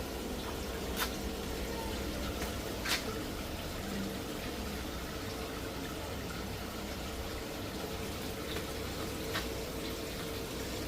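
An indoor water fountain for sale in a UK garden shop runs with a steady, soft splashing trickle, unbroken and fairly close, with no one talking.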